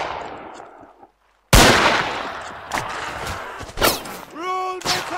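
Gunfire in a Mount & Blade battle during an Anglo-Boer War roleplay: a silent pause, then several sharp, loud rifle shots fire in quick succession with echoing tails, and a voice calls out briefly near the end.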